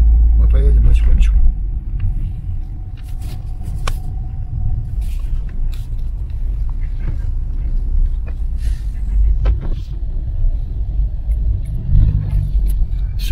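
A car rolls slowly down a descent on a road trip from Russia toward Turkey through Georgia, its steady low engine rumble and road noise filling the cabin while someone talks over it.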